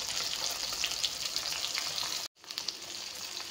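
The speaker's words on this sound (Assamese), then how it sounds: "ভাজা হৈ গ'ল। ধুনীয়া মৰমৰীয়া হৈছে।" Fish sizzling and crackling in a frying pan, a steady dense fry that continues close and loud with a brief cut partway through, no talk.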